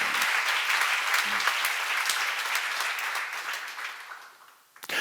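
A church seminar audience applauds in a sustained, dense burst of clapping that gradually fades out near the end, with a brief voice at the close.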